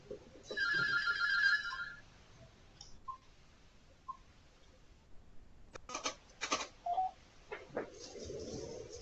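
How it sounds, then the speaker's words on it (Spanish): A telephone ringing, a burst of electronic ring tone followed by scattered beeps and clicks, fairly faint and alone without talk. "Perdonadme, que me está sonando el teléfono."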